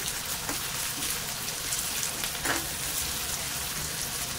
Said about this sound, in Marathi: त्यासाठी कांदा चांगला ना लाल होईपर्यंत परतवून घ्यायचंय व्यवस्थित असा